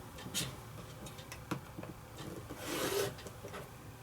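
A rotary cutter trims quilting fabric for a pinwheel block, giving a faint, close rasping glide with small ticks and a louder scraping stroke near the end, in a quiet room.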